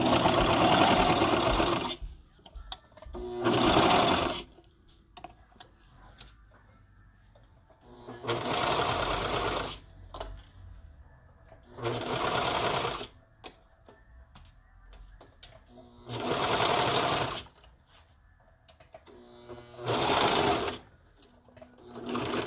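A home sewing machine stitches leggings fabric in about seven loud bursts of rapid mechanical whirring, each a couple of seconds long, separated by quiet pauses with faint handling clicks.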